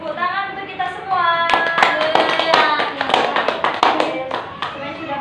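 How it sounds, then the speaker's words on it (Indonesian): Classroom of sixth-grade students clapping together at the end of a lesson, starting after a teacher's voice and continuing as uneven, fairly close sharp hand claps mixed with ongoing talk. "Tepuk tangan untuk kita semua."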